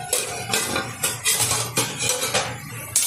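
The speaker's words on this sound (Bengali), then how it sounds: "ঢাকনাটা তুলে দিচ্ছি।" A metal lid comes off a cooking pot of okra, potato and small prawn curry, giving a series of sharp, close clanks and clinks in an irregular rhythm.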